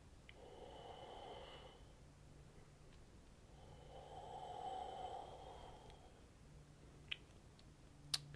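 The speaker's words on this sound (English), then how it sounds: "Let's go ahead and take 3 more deep breaths." Slow, deep breaths drawn during a yoga class, in a Power Hour session while holding a deep lunge: two long, soft breath sounds, each lasting about two seconds, heard close and faint over quiet room tone with a couple of small ticks.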